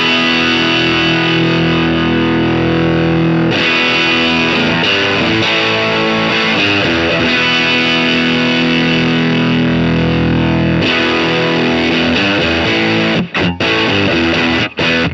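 Heavily distorted germanium fuzz pedal on electric guitar plays sustained, saturated chords and riffs, loud and continuous, with a few brief dropouts near the end.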